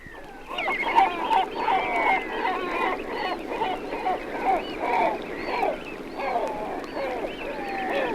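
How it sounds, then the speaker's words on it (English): Great black-backed gulls give deep, gruff calls over a reservoir, a busy overlapping chorus of harsh honking cries that carries on steadily throughout. "Their deep, gruff voices can sometimes be heard coming over the water."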